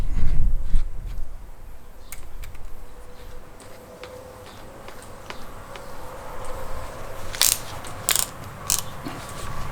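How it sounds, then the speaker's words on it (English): Close clicks and ratcheting of a drill chuck as the bit is swapped for a 1/8 inch bit during a butcher block table build, quiet handling followed by a few sharp mechanical snaps near the end. "I'm going to replace this bit with an 1/8 inch bit."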